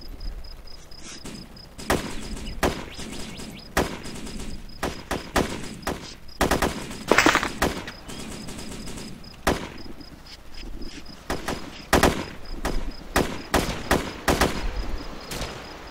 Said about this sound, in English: Open fire, guys.